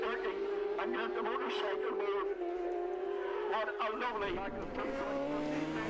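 750cc race motorcycles sweep at speed through a left-right series of bends on a road circuit, engines wailing and shifting pitch as they pass close by, with a commentator talking over the roar.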